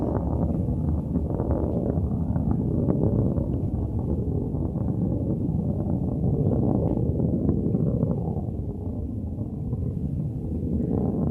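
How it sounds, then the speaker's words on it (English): Blue Origin New Shepard rocket's BE-3 engine roaring in flight near max Q, heard from a distance in West Texas as a steady, continuous low rumble that holds for the whole stretch. "we can hear that BE-3 engine just roaring through the sky"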